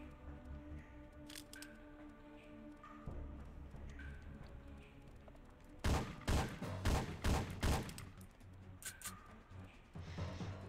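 Game gunfire in Syphon Filter 3 inside an underground bunker: a tight cluster of five or six loud shots in quick succession midway, with quieter background hum and a few lighter clicks around them.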